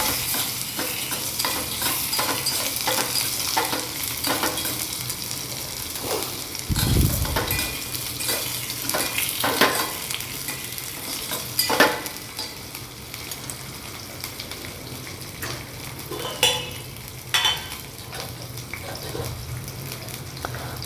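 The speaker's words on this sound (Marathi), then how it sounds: "आता या सेटला आपण बटाटे टाकणार आहोत बटाट्याच्या कतल्या याला चांगलं मिक्स करून घ्यायचं आहे" Potato slices stirred and fried in a pan in a flat kitchen, with continuous sizzling under repeated scraping and clattering strokes of a spatula, irregular knocks and a few louder clanks standing out.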